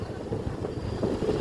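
Steady gusting wind blowing on a rainy day outdoors, a continuous low rumbling rush buffeting the microphone throughout, with no talk.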